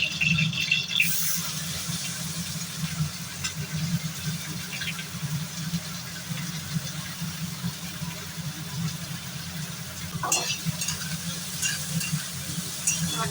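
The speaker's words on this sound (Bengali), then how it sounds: "তেল গরম হয়ে তাতে আমি কেটে রাখা পেঁয়াজ দেবো" Chopped onions frying in hot oil in a pan, a steady soft sizzle with occasional scraping stirs, fairly faint and without talk.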